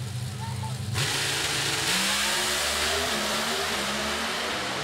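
An NHRA drag racing car makes a run down the track at the US Nationals in Indianapolis, a loud sustained engine roar that swells sharply after the first second and holds steady, with a commentator talking over it.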